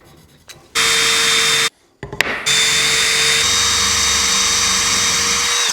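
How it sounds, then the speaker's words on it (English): A power drill bores a hole into the end of a wooden handle in a workshop, whining steadily in loud, close bursts with a brief pause before it starts again. "Now we just need to drill a hole in each end of our handle"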